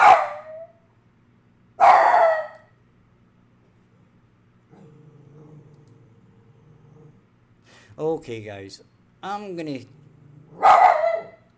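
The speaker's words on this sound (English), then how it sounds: "that's the dog started again" A house dog barks in loud separate bursts, one near the start and others spread through, with someone talking between the barks and a low steady hum underneath.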